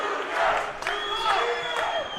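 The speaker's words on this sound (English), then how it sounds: "the crowd now trying to pump him up" A boxing arena crowd roars and whoops to pump up a fighter who has just eaten two jabs, a dense swell of cheering voices and shouts, loud and continuous for a couple of seconds.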